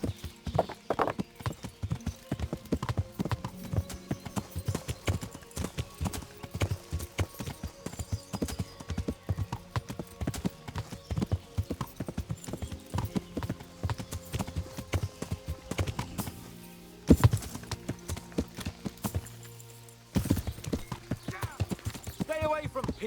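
Horse hooves clip-clop in a steady, continuous rhythm in the medieval game Kingdom Come Deliverance, with a voice briefly breaking in near the end.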